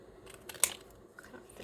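Scissors snip through collage paper in one quick, crisp cut, with a few faint rustles and small clicks around it, close and fairly quiet with no talking.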